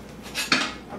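A cooking pot full of roasted creamy tomato soup is shifted across the stove, giving a brief metallic clatter and scrape that peaks sharply midway through, close and fairly loud with no talk.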